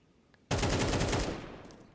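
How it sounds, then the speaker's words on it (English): In a Counter-Strike esports match, a sudden loud burst of rapid automatic gunfire rattles for about a second, then trails off. "now gets shot from behind"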